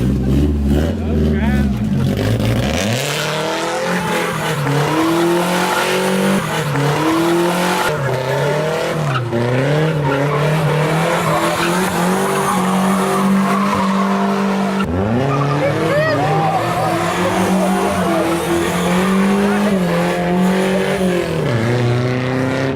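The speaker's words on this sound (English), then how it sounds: "He thought he was burning out. He wasn't. He was burning clutch." A car attempting a burnout at a car meet strains with a wavering, revving engine and slipping clutch, loud and sustained with pitch swings throughout, while people talk over it.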